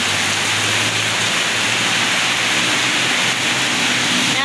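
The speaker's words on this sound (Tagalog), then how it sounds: "Pating pagara sa ulan, guys. Yung kusog og maayo." Heavy afternoon rain pours steadily, a dense, even roar of drops hitting surfaces close by, with no voices over it.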